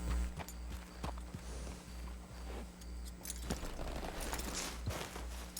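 A horse walks with hollow hoof clip-clops in Red Dead Redemption II, an uneven, fairly quiet run of steps set against low game ambience.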